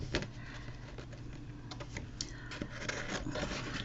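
Scissors cut around a paper decoration for a handmade journal, producing close, soft crisp snips and rustling paper in an irregular rhythm, with no talking.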